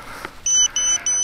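An Eachine Tyro 99 FPV drone arming gives three short, clear electronic beeps in an even rhythm, close and moderately loud, after a faint soft tap.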